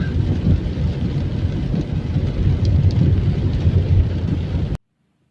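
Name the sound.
rain falling outdoors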